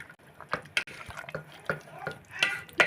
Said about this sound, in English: Again I am going to roast them very well.